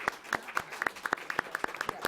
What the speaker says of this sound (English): share in a round of applause for our fabulous speakers